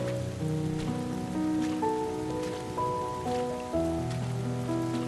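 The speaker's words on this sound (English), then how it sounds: "getting caught out in the rain here" Rain falls steadily in the walking simulator game Bottle: Pilgrim Redux, a continuous patter on surfaces beneath soft sustained musical tones.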